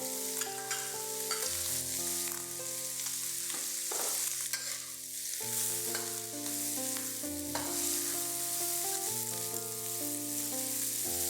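Dried shrimps and shredded cabbage fry and are stirred in a pan, a steady soft sizzle running throughout with occasional scraping stirs, moderately close with no voices, while music plays underneath.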